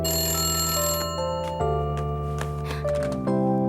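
A telephone ringtone plays a stepped electronic melody of clear tones, alone and fairly loud.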